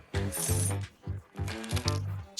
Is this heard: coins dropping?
yes